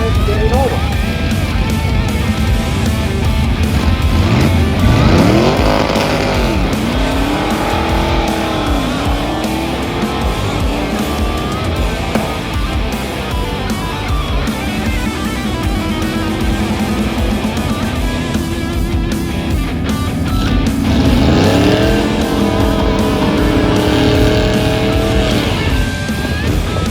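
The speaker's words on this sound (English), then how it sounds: "66 Dodge Charger, and Brett Miller, Big Lake, Minnesota driver, and that's a 69 getting over" Stock race cars, including a 1966 Dodge Charger, roar around a track in a loud continuous engine drone with rising and falling revs as cars pass, while an announcer talks over the noise throughout.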